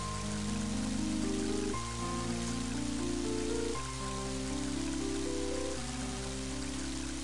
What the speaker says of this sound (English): it just starts pouring rain